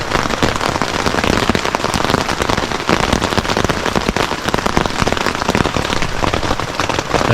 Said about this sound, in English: the rain has made it